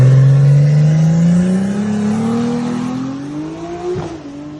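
A rear-wheel-drive BMW M140i drag car makes an 8-second pass, its engine droning loud and steady while the pitch climbs through the gears before a brief shift break near the end.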